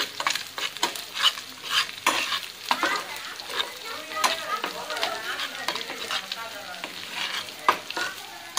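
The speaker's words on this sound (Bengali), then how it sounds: "ডিমটা যাতে ভালোভাবে ভাজা ভাজা হয়" Egg frying in a pan with onion while being stirred, a steady crackling sizzle broken by repeated scraping strokes of a utensil, close and fairly loud with no voices.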